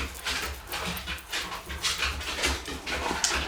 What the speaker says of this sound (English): That's my younger dog, that is.